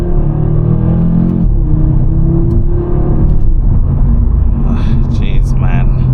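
Engine of a 2025 Audi RS3 facelift with a 400 hp five-cylinder and 7-speed S-tronic gearbox, downshifting to second gear on a drive, a loud steady cabin rumble with a pitch change partway through.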